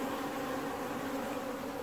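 Dense, continuous buzzing of many wasps swarming around a beehive on the island of Newfoundland in September, loud and close with no pauses.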